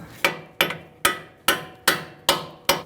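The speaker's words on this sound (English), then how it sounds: "I'm going to thread my nut back on a little bit so that I can tap it out." Seven sharp metallic hammer blows ring out at an even pace against the lower ball joint of a 2000-2007 Ford Taurus, each strike close and loud with a short decay.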